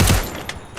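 Gunfire in the Free Fire video game: a loud burst of shots up front, then a single sharper shot around the middle, with quieter game sounds between.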